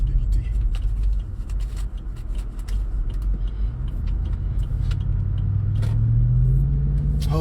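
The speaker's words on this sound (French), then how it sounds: "Oh, j'aime trop conduire Range Rover." Range Rover being driven, a steady low engine and road rumble filling the cabin from start to finish, with a rising tone near the end and someone talking over it.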